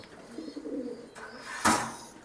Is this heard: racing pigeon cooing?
yes